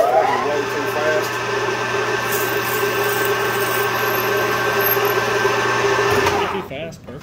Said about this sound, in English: we're gonna drill 1164 hole with this giant hand drill I got